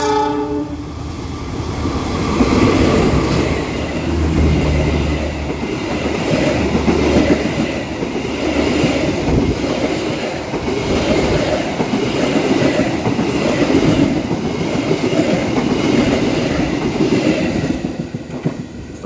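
Malabar passenger train running straight through on track 1 at Indihiyang station in Indonesia, a loud sustained roar of wheels and carriages with rhythmic rail clatter and a horn near the start.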